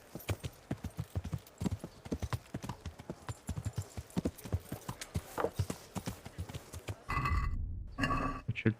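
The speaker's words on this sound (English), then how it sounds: "Ride the horse." Horse hooves clip-clop in a steady trotting rhythm in the video game Kingdom Come: Deliverance, close and clear, followed by a louder burst of noise and a horse's snort near the end.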